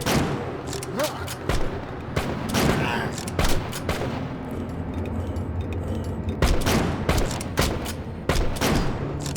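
Rapid bursts of video game gunfire crack repeatedly in uneven volleys, with booming shots over a constant noisy background and a voice talking underneath.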